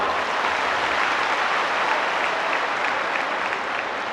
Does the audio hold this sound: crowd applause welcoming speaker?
yes